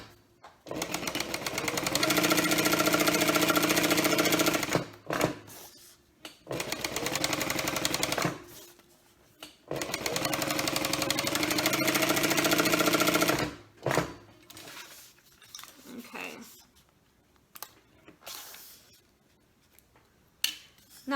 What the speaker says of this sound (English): we want to stitch along that 2-inch mark line that we drew.